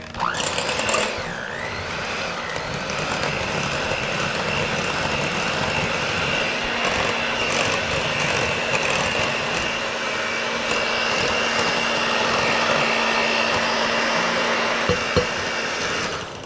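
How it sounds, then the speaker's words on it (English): Electric hand mixer whirring steadily through chocolate coffee crinkle cookie batter, a continuous motor drone with a pitch dip near the start and a few clicks toward the end. "I'm going to blend that in with the electric hand mixer."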